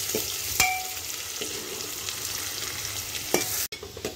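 Onions and fenugreek seeds sizzle steadily in hot oil, with occasional spatters and the scrape of a spoon stirring the pan.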